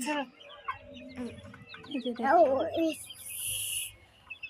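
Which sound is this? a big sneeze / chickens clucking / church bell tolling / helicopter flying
chickens clucking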